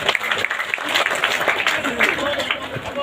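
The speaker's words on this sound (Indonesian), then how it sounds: "Tepuk tangan dulu buat yang Imran." Audience applause at a gathering in Bontonompo, Gowa, South Sulawesi, honoring police general Fadil Imran, a dense patter of clapping that runs steadily for about three seconds, with voices talking over it.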